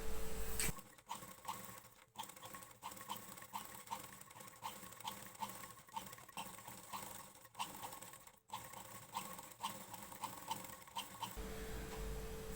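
Sewing machine stitching on buckram while a blouse is made at home, a steady, quiet, rapid mechanical whirr of needle strokes with brief pauses and restarts.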